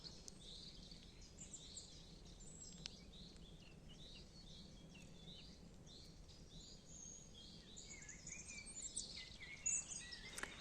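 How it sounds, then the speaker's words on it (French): Small birds chirp and sing in repeated short high notes along a countryside forest trail in France. They are faint and distant over a quiet outdoor hush, with no talking. "il y a les oiseaux qui chantent"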